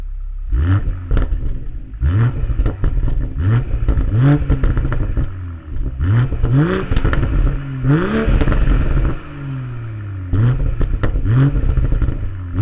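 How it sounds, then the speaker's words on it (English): A 2020 BMW M340i xDrive G20 with the M Sport exhaust starts up and is revved repeatedly, giving a deep growl in a series of rising blips close to the microphone, with no talking. "So there's a nice deep growl. Obviously this does have the M Sport exhaust system, which is nice."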